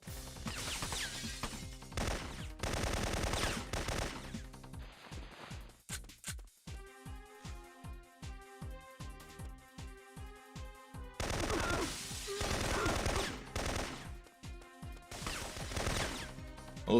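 Gunfire from the video game Syphon Filter comes as loud bursts of rapid automatic shots separated by quieter stretches with rhythmic game music, with no voices.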